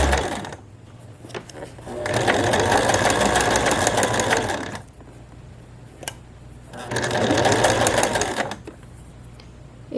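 Sewing machine stitching a shirt seam in two loud bursts of rapid needle clatter, each a few seconds long, separated by a quieter pause with a faint hum.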